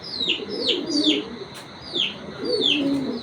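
Racer pigeons coo in a series of soft, repeated rolling calls with higher chirps mixed in. A few calls overlap, all fairly close and steady, with no talking.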